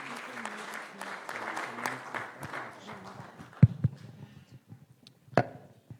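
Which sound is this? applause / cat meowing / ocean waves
applause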